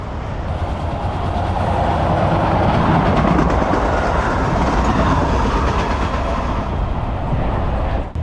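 A light rail train rolls past steadily and loudly for the whole stretch, a continuous rumble with faint rail clatter and no voices.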